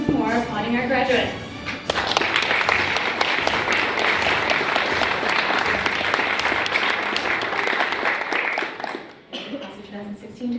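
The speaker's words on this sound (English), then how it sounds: "Join me in once more applauding our graduates." An audience at a 2016 graduate school graduation in Paris breaks into loud, sustained applause for the graduates, dense clapping filling the room for several seconds, with a voice speaking before it starts and again as it fades.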